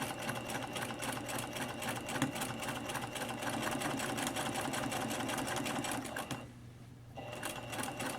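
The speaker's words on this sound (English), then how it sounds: "just keep on stitching all the way around" A sewing machine stitching seams for a Hong Kong finish whirs continuously with a fast, even mechanical chatter. It pauses briefly near the end, then starts running again.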